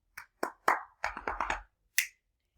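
A series of crisp finger snaps as body percussion in an uneven rhythm, a quick cluster in the middle and one last snap after a pause, close and clean.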